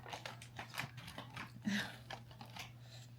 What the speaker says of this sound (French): Désolée pour les gens qui aiment pas entendre les autres croquer